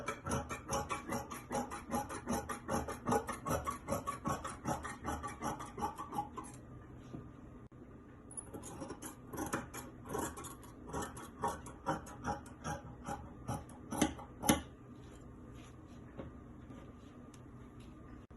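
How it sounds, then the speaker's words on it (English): Scissors cut through fabric to free dress bodice pieces, giving a run of close, crisp snipping strokes in an uneven rhythm with short pauses between cuts. "So I'll go ahead and cut out the front bodice."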